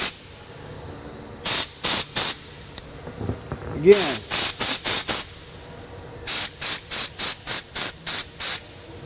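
Lubricant is sprayed onto Ford Edge brake parts during 60,000-mile brake maintenance, in a series of short, sharp aerosol bursts grouped in quick runs, with quiet gaps between them.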